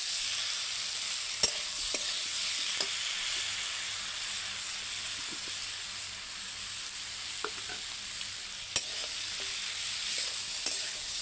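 Onion and ground spices fry in hot oil with a constant hissing sizzle, broken by a few sharp clinks of a stirring utensil against the pan.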